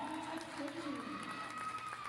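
Crowd at a Division III women's basketball game between Lehman and Neumann cheering after a made basket and foul. A steady roar of voices sits under an announcer's talk.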